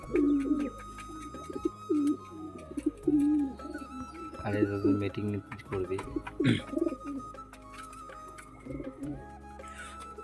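Pigeons, including newly arrived birds kept beside a house, coo in low, repeated throaty phrases close by, with people talking over them throughout.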